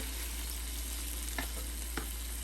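Kerala-style chicken drumsticks fry with tomato in a pan, making a steady, close sizzle broken by two brief clicks of a utensil, with no speech.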